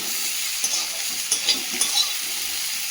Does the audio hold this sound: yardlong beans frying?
yes